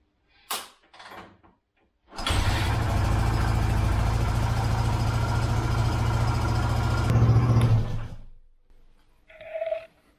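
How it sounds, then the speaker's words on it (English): An old car engine cranks and fires after a few knocks, then runs loudly close by for about six seconds with a steady idling rumble, briefly rises and cuts off, followed by quiet handling noises. "Last kick for the old engine."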